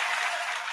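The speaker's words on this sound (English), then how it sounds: "No more applause." Audience applause at a comedy competition show: a brief, steady wash of many hands clapping, bright and even, with no voices over it.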